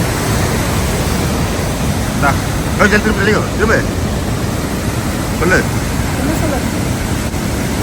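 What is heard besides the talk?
waterfall, Athabasca Falls, Canadian Rockies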